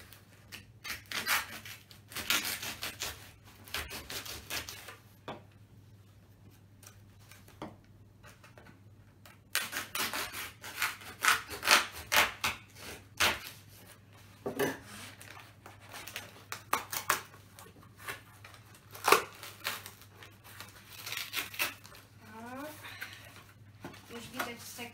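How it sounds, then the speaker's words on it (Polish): A cardboard box for Star Wars Battlefront II is opened, with bursts of scraping, tearing and crinkling paper between quieter pauses, close and intermittent across the span. "otwórzmy to sobie, żeby zobaczyć, co ten kawałek kartonu w sobie skrywa"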